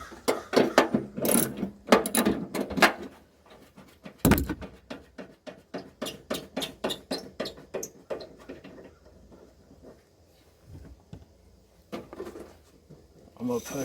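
A ratchet turns a 10mm bolt on a Toyota Yaris during a license plate bulb replacement, giving rapid bursts of close, sharp clicking with short pauses between strokes.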